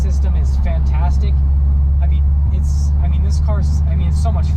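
A 2018 Subaru STI with all-wheel drive cruising in a straight line, its engine a steady low drone and rumble of road noise from inside the cabin, running continuously under a voice talking.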